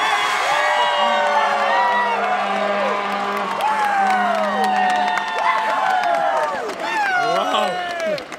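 A crowd at a junior hockey championship game, Kitchener-Waterloo Siskins against Stratford Warriors, cheers loudly and without a break, with shouts and whoops rising over a steady roar of many voices.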